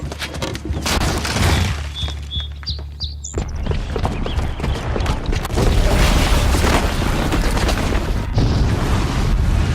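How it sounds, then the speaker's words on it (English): A bomb booby trap goes off in Horizon Zero Dawn, a deep game explosion with a heavy rumbling boom that swells and sustains loudly through the second half, preceded by scattered clatter and brief tonal effects. "the booby trap on the bomb downstairs is gonna get set off"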